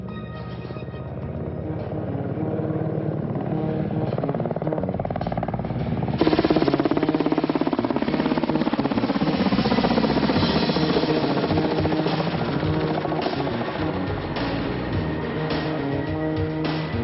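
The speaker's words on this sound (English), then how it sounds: "Today, Russia's Black Shark is one of the more impressive helicopters to watch." A Kamov Ka-50 Black Shark attack helicopter flies overhead, its broad rotor and turbine roar loud and continuous, swelling noticeably about a third of the way through and holding steady to the end.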